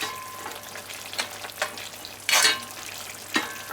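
Brown stew fricassee chicken sizzles in a pot on the stove while a spoon stirs it, scraping and clacking against the side in a few close, uneven strokes over the constant sizzle.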